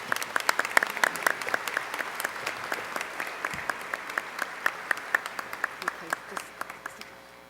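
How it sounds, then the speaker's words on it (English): An audience at a banquet applauds steadily for several seconds, dense hand claps from many people in a hall that thin out slightly toward the end. "why don't you give her a warm round of applause right now?"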